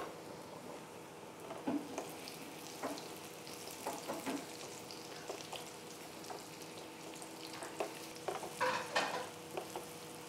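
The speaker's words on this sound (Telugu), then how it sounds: "కడాయిలో ఒక 2-3 టేబుల్ స్పూన్స్ ఆఫ్ ఆయిల్ వేసాను. ఆ బాల్స్ అన్నీ కూడా షాలో ఫ్రై చేయడానికి." Vegetable kofta balls shallow frying in a few spoonfuls of hot oil in a kadai, a steady soft sizzle with occasional louder crackles and pops, no voices.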